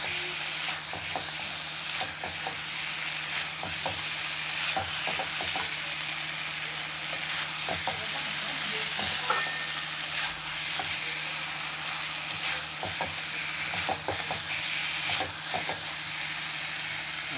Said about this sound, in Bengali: সবগুলোকে একসঙ্গে কষিয়ে নেব।